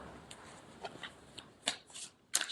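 Soul Care Oracle cards are shuffled by hand, close and quiet, in a few crisp riffling bursts and soft flicks with short pauses between them.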